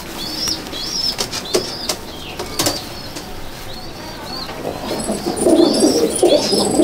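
Pigeons in a breeding loft burst into repeated wing flaps, sharp clapping flutters near the microphone, with soft cooing and chirps from other birds around them and a louder rustling flurry at the end.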